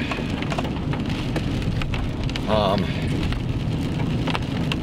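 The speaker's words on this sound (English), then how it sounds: "And it's raining. It's been raining for 2 days." Steady rain falls over a wet road, a dense, close patter that continues unbroken throughout the whole stretch, with a faint brief tonal sound partway through.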